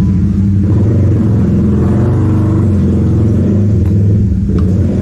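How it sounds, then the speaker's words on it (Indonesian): Loud, steady engine rumble of a motorcycle going past nearby, with a slight rise in revs, no voices. "sorry agak berisik, ada motor lewat."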